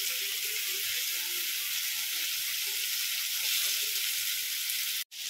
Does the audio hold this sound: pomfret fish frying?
yes